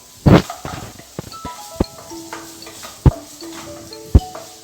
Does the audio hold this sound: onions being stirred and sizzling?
yes